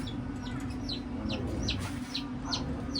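Chickens cluck and squawk in repeated short bursts over a steady low hum, with a busy farmyard background throughout.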